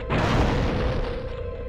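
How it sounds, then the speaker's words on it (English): A wall is smashed apart in the PS2 game X-Men Legends: one loud, close booming crash with a sudden onset, then a dense rumbling wash of debris that stays loud and fades only slightly over the next second and a half. "we need to destroy the wall"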